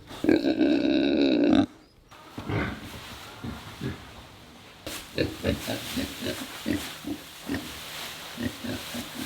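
Pigs grunt and snort nearby, starting with a loud drawn-out squeal, then a brief pause and a run of short, rhythmic grunts.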